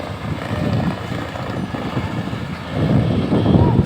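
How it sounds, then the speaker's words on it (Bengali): A trawler boat sets off across open water at Mini Uchitpur, giving a steady low engine drone that grows louder near the end, mixed with wind buffeting the microphone. "এই যে নৌকা ছেড়ে দিছে"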